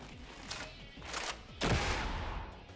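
A shotgun firing buckshot in the game Darktide lets off a quick series of three loud blasts, the last one the heaviest, over rumbling combat noise.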